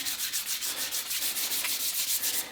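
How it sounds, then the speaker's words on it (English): Hand sanding a wood rifle stock with folded 180-grit sandpaper, a steady close rasping rub in quick regular back-and-forth strokes, alone without talk. "I'm going to just lightly sand it"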